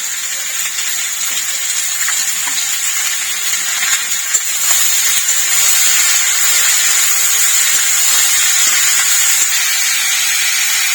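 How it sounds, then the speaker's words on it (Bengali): Potatoes frying with a little salt in a hot pan for Bengali alu posto, giving a steady, loud sizzling hiss that runs without a break and with no talking. "তাড়াতাড়ি আলুটা ভাজা হয়ে যাবে, সিদ্ধও হবে"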